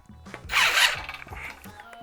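A DeWalt DCD800 cordless drill gives one short trigger pull, a brief close whir that rises and then stops, with light clicks and handling noise around it.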